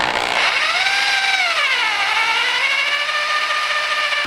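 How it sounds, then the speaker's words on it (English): An electric drill boring holes in steel for a welding table, with a loud, close whine whose pitch sags and recovers as the bit bites into the metal. "I just have to drill 3 more holes now."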